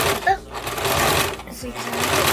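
A sewing machine runs a steady zigzag stitch along a duffel bag strap made from scrap fabric, a close, continuous whir with brief pauses, under a person speaking.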